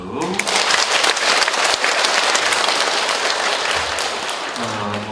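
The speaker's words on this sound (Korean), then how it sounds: "박수." An audience at a Catholic church gathering breaks into loud, sustained applause for the music volunteers, dense clapping filling the space, with brief talk at the start and end.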